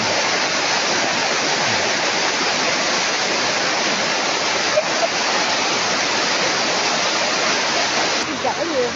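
The Sungai Gabai waterfall pours in a constant, loud rush of falling water that fills the whole clip without a break, steady and close at hand.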